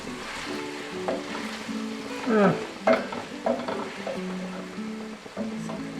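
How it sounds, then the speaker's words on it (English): Steady sizzling of vegetables in a pan over very low heat, with occasional stirring scrapes and clatter, close and moderately loud, no voices. "Sizzling away."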